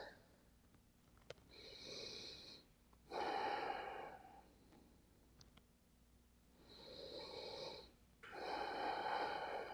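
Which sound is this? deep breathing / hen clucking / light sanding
deep breathing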